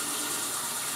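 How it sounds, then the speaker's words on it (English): Warm water runs steadily from a bathroom tap onto hands, a close, even hiss and splash without a break. "first I'm going to turn the water on."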